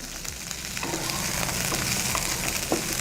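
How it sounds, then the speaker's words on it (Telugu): Mixed vegetable pieces and peas fry together in a kadai for khichdi, a dense, loud sizzle that thickens after the first second and keeps going with occasional stirring taps. "బఠానీలు కూడా దీంతో పాటు వేగుతున్నాయి"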